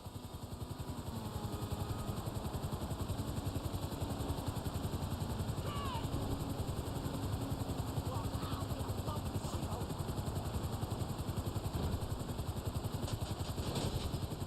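Helicopter flying in the video game GTA Online, a steady, close rotor and engine drone with a fast rhythmic chop that holds at an even loudness throughout.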